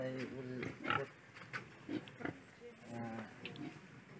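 Pigs in a new pen grunt and oink in short repeated bursts, fairly close but quiet, with people talking among them.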